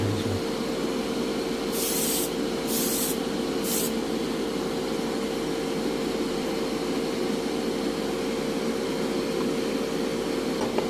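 Airbrush spraying acrylic paint onto a model 2 1/2 ton cargo truck chassis, a steady close hiss with compressor hum throughout, broken by three short bursts of higher spray early on.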